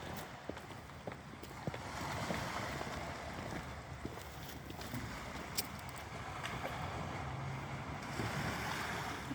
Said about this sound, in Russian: О, шум моря.